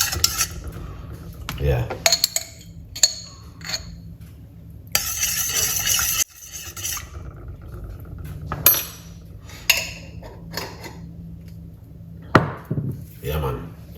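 Honey stirs into tea in a cup with a spoon, close, irregular clinks and scrapes of metal on ceramic interspersed with a brief voice.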